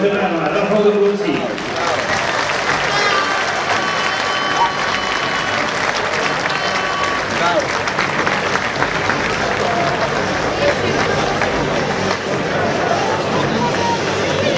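A crowd at a Leszno speedway event applauds rider Rafał Dobrucki with loud, continuous clapping and cheering that fills the whole stretch, while voices carry through the noise.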